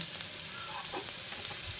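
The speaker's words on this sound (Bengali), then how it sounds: "দেখুন, আলু আর কচু বেশ লালচে করে ভাজা হয়ে গেছে।" Potatoes and taro frying in oil, a steady soft sizzle with faint crackles throughout and no voices.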